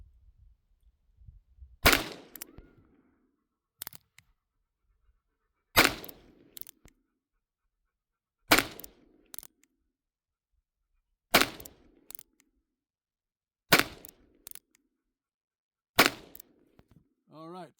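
Six sharp gunshots from a Harrington and Richardson .22 Magnum rifle, evenly spaced every few seconds, each a loud crack with a short echo, fired outdoors with near silence between shots.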